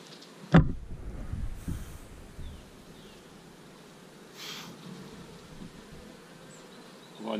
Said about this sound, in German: Ich halte mal die Bienen in die Kamera.